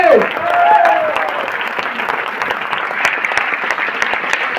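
Loud, dense applause from a crowd at a workshop training session in Satna, sustained evenly for several seconds, with a brief whistle-like tone near the start.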